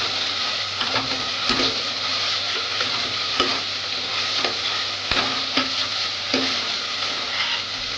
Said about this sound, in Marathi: हे कम से कम पाच मिनटं जरा चांगलं फ्राय करायचं